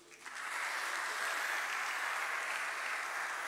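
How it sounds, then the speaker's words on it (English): A concert audience applauding after a Christmas choir performance, a dense steady wash of clapping from many hands that swells in quickly and holds evenly throughout. "A huge round of applause for yourselves as well."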